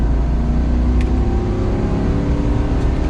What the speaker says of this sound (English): as we get onto the on-ramp now, definitely plenty of power with an empty truck here to get up to emerging speeds